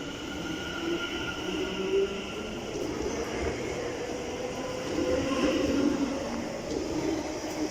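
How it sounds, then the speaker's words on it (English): A London Overground train at Wembley Central station gives a steady rumble with faint wheel and brake squeals, heard from a moderate distance with no clear talk. "The London Euston Overground service is getting ready to leave."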